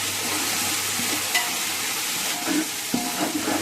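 Masala for mutton dum biryani sizzling and frying in a pan while being stirred, a continuous loud hiss with occasional scraping knocks from the spoon.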